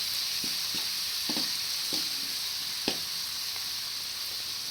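Finely shredded cabbage with salt and turmeric frying in a pan for veg fried rice: a steady soft sizzle with several scattered stirring scrapes and taps over it.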